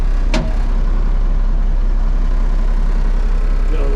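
An International 4366 tractor engine runs at a steady low idle, a loud continuous rumble close by, with a brief higher-pitched whine or squeal early on.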